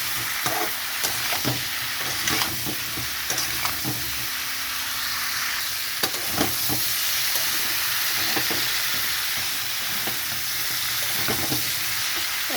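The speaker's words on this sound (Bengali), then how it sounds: "মশলাটা ভালো করে কষাতে হবে" Spices with salt, turmeric and cumin sautéing in a pan for a prawn, pumpkin and potato curry: a loud continuous sizzle and hiss broken by repeated scraping stirs at an irregular rhythm, with no talk.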